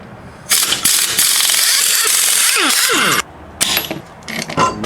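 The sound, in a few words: Snap-on IM51 impact wrench removing lug nuts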